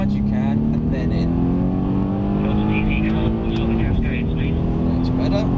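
Mercedes-Benz C63 S engine pulls hard on a track, a loud rising drone with climbing harmonics, a brief dip near the end as revs drop, then building again, all close and continuous.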